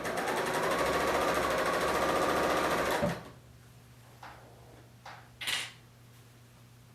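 A Bernina L890 sewing machine stitches in a steady, smooth, fast run for about three seconds and then stops, followed by a faint low hum and a few small clicks, close and alone.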